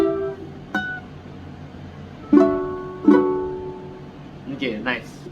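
A ukulele picks out the fingerstyle melody of a Tamil song, a few sparse plucked notes ringing out with gaps between them, played alone at moderate volume with faint room noise.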